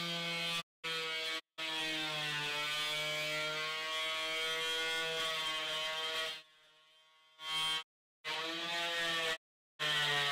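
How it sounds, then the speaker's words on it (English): An oscillating multi-tool trims protruding ends on a boat's cockpit side panels, giving a loud, close, high-pitched buzzing whine in several bursts broken by short silences. "take my oscillating tool and just cut the ends off there that are sticking out."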